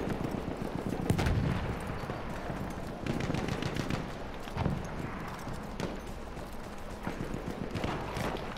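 Gunfire in the video game Battlefield 1 rattles through a busy battle mix, with irregular sharp shots and bursts, some near and some distant, over continuous rumbling noise.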